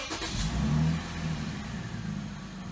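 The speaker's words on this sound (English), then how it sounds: "then you can go ahead and start the vehicle" A Lexus Toyota car engine starts with a quick crank, then rises into a brief rev before settling into a steady idle, heard close with no talk.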